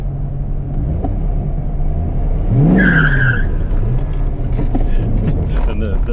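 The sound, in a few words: 1996 Corvette C4 Grand Sport tires squealing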